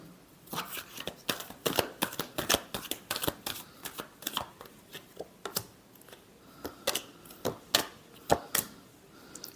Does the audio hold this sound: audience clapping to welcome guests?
no